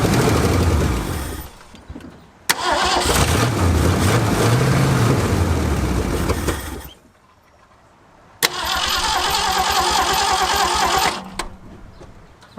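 A Ford Galaxy engine cranks and catches after five years parked, roaring loudly for several seconds, cutting out, then starting again for a second run close by.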